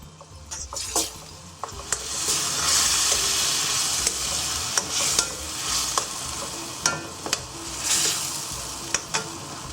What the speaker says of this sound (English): cook this down until all the fresh tomatoes start to dissolve and become a nice thick sauce